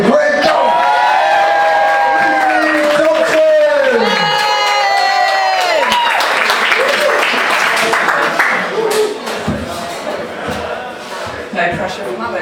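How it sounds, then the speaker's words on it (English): Comedy club crowd at a stand-up night in a pub venue in Leicester, loud cheering, whoops and shouts over sustained clapping, peaking early and then settling into scattered applause and voices. "I think we've got the hang of the whole cheering and laughing and clapping and thing"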